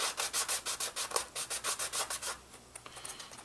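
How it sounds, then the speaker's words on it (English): Sandpaper rubs back and forth across the flat faces of a wooden piece in a quick, steady rhythm of about a dozen close strokes, then tapers into lighter, scattered scuffs. "I like to go ahead and give these faces just one more quick sand, just to kind of smooth that out."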